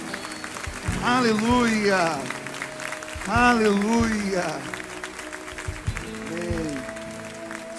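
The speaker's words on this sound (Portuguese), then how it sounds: "Você pode aplaudir ao Senhor" Scattered clapping from a church congregation sits under a voice that sings or calls out in bursts, with a sustained tone behind it and the applause staying light beneath the vocals.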